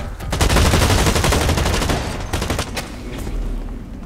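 Rapid gunfire and a grenade blast in the online shooter Blacklight Retribution, a dense loud barrage of automatic shots with a heavy low boom rumbling underneath, continuing steadily throughout.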